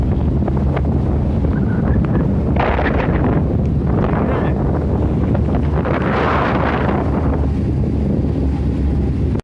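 A northwesterly wind blows across a sailboat at sea, heard as loud, steady rumbling buffeting against the microphone with a couple of gusty swells and no talking.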